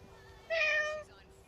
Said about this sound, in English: This cat learned to use the doorbell when they want to come back inside